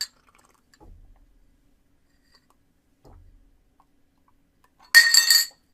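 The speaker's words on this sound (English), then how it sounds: "you just take a glass of water, you drop a spoon in the water" A metal spoon clinks against a glass of water in one loud, bright burst near the end, after two dull thumps in otherwise near silence.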